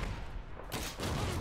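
Machine gun fire in Call of Duty 2, a loud, dense burst of rapid shots that fills the whole clip, broken only by a brief dip partway through.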